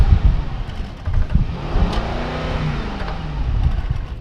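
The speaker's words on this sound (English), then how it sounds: "you can listen to the outside because it does have a valved exhaust back there." Revving from the valved exhaust of a 2022 Mercedes-Benz S-Class, heard from outside the car: a moderately loud, rising and falling engine note with a couple of throttle blips, continuous over low rumble.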